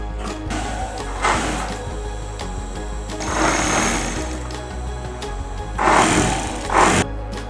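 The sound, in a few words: sewing machine stitching cloth for kapok cotton mattress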